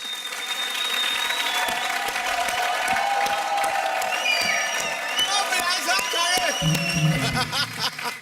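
An audience at an Indian comedy show bursts into sustained, loud applause with cheering and scattered whoops, a dense wall of clapping that carries on to the end, with voices mixed in.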